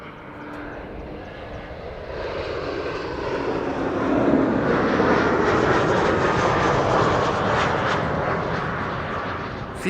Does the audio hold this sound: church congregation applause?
no